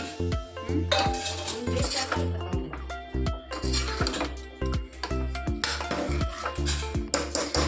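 Fried coconut masala for an egg sambar being mixed in a pan, with a steady run of close metal spoon scrapes and clinks against the pan and no talking.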